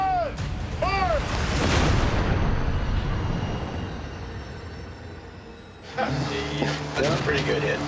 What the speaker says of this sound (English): We had a good detonation.